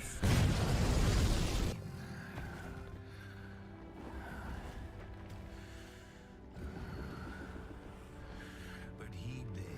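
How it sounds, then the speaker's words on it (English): A loud explosive blast bursts out at the start, then fades into quieter rumbling game ambience with faint tones. "Explosions!"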